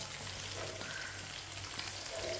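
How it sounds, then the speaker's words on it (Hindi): Finely chopped onion sizzles in half a cup of hot oil with whole cumin seeds, the start of Punjabi sarson ka saag; a steady, continuous frying hiss, close and even throughout. "1 बारीक कटा हुआ प्याज।"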